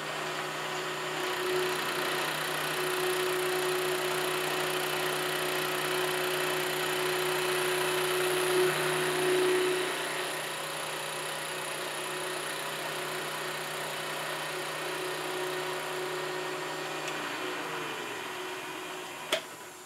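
A machine tool taking a light final cut of a few thousandths with a high-speed steel cutter, a steady even machining drone with a faint high tone running almost twenty seconds, ending with a small click.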